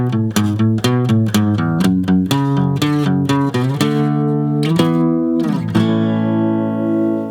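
Electric guitar playing a riff, rapid chugging picked notes in a driving rhythm, then sustained ringing chords, loud and alone.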